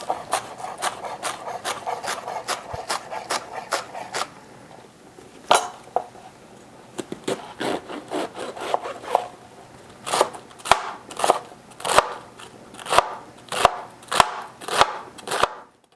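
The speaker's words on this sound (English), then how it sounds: "I'm going to put that in the pan as we start to chop up our vegetables." A kitchen knife chopping vegetables for Irish colcannon on a cutting board, first a fast steady run of light taps, then slower, louder separate chops ringing out clearly near the listener, with no one speaking.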